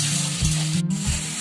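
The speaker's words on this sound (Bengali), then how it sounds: "মশলা পুরো ভাজা ভাজা হয়ে এসেছে, পুরো কষানো হয়ে গেছে, তেল ছেড়ে এসেছে।" Onion, ginger, turmeric and green chilli masala sizzles in oil as it fries down, a constant close hiss with a few soft stirring bumps and a brief dip midway.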